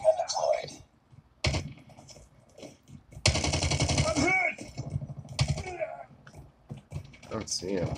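Gunfire in the mobile shooter Call of Duty Mobile, with sharp bursts of shots cutting in at intervals, including a loud sustained volley near the middle, while a player talks excitedly throughout.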